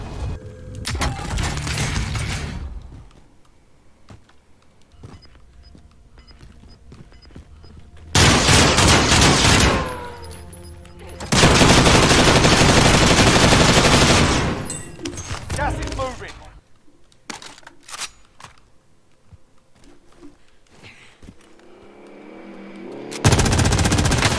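Call of Duty gunfire rings out in long, loud automatic bursts separated by quieter stretches, with rapid repeated shots and mechanical clicks and occasional voices in between.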